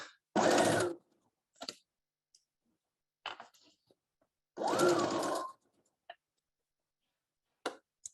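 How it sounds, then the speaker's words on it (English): Sewing machine stitching a fabric thread catcher bag in a sewing room, running in two loud bursts of about half a second each, separated by quiet gaps filled with faint handling clicks and taps. "So let's go ahead and sew."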